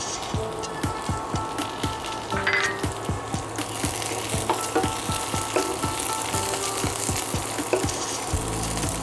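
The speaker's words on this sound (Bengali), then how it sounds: "পেঁয়াজটা একটু নাড়াচাড়া করে ভেজে নেব।" Onion sizzles and fries in hot oil with green chilies, bay leaves and five-spice seeds, sharp crackling pops over a steady hiss, stirred now and then, close and continuous with no talking.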